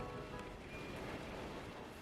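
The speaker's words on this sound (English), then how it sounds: "So it just started raining here" Rain falling outside a farmhouse-style home, a soft, even patter and hiss that holds steady and faint throughout, with no voices.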